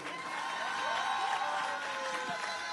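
An audience applauds for the king Doudouze at a National Apoutchou foundation event: a dense, steady wash of clapping and crowd noise with a few whistle-like tones rising and falling through it, with no clear pauses.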